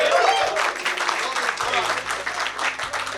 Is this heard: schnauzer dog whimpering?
no